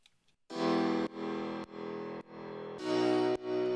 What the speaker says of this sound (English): And then I also have these pianos playing here.